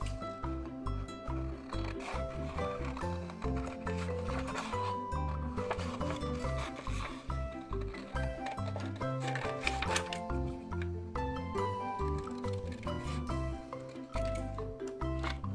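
Scissors snip steadily through a paper card cut-out of a reindeer for a New Year card, a close, continuous run of crisp cutting and rustling over soft background music.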